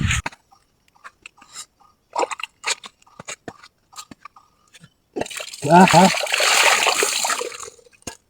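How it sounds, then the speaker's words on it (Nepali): Water splashes in a burst of pouring and spattering as someone bathes with cold water, following a stretch of scattered, quiet clicks and movement; a voice seems to cry out over the splashing. "अब म नुहाउन रेडी है।"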